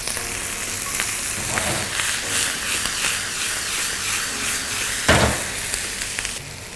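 Pizza toppings warmed lightly on a tawa, a steady loud sizzle and hiss with a sharp clatter of stirring or a utensil near the five-second mark, close up with no talking.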